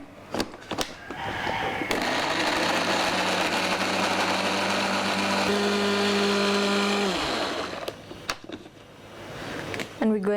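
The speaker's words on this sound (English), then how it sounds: "And blend it until smooth." Blender whirring kimchi paste with Korean fish sauce, revving up and running steadily for several seconds before winding down, loud and close, with brief clatter at either end.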